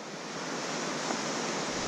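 Ocean surf on a beach where people are surfing, a continuous broad wash of breaking waves heard from a distance, steady and unbroken, with no voices over it.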